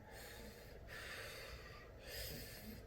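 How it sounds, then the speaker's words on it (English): Slow, deep belly breaths during an acting class exercise, two long airy inhales close to the microphone in a quiet room, each followed by a pause. "Making sure we're breathing from the belly."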